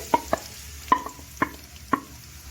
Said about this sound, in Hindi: 2 चम्मच जो है वो ऑयल ले लिया है और साथ ही हम इसमें जो है 2 मीडियम साइज की प्याज जो है वो डाल रहे हैं